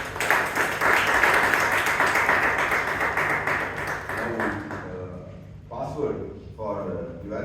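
Toastmasters club members in Bangalore give a round of applause, a loud, dense clapping wash that fades after a few seconds into a voice speaking.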